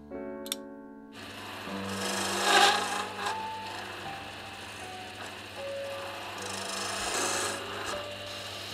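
Wooden stool leg tenon being shaped by a heavy-duty adjustable sizer on a lathe, a continuous close rasping cut over a steady low motor drone, swelling and easing as the tool works.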